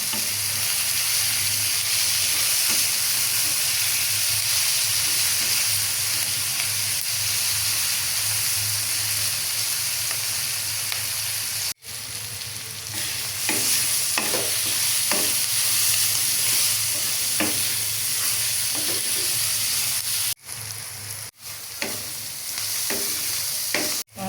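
Onions fry with a little salt in a pan for singara filling, giving a loud, continuous sizzle and steamy hiss close up, while a utensil stirs and scrapes in repeated bursts. A few brief dropouts interrupt the sound.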